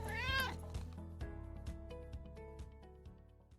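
A cat meows once, close and clear, a wavering cry at the start that fades into a quieter sustained tone with faint rhythmic ticks beneath.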